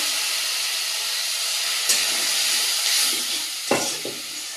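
Spice masala for loitta fish sizzles and hisses steadily in a pan as a little water is added, with a few sharper bursts of steam and stirring scrapes; no talking.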